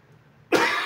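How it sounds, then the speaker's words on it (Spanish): A single sharp cough bursts out after a moment of quiet, close and loud, with no talking around it. "si me escuchan con un poco de tos"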